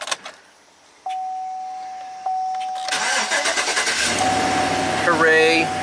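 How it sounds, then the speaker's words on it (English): A 2016 Chevy Express van's engine cranks after a few clicks and tones, catches and settles into a running idle, loud and close in a repair shop. "let's see if the van starts and runs"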